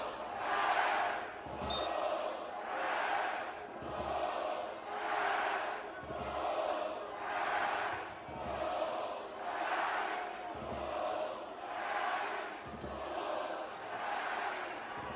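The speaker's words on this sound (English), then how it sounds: "This crowd has not relented, trying to once again get the boys in white going." Crowd at a college soccer final, UW against NC State, cheers and chants in loud rhythmic surges that swell and fade every second or two, filling the stands continuously throughout.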